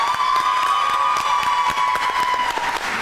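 A game-show audience applauds the second team in a pantomime contest, with a steady patter of clapping and some cheering over a sustained musical tone.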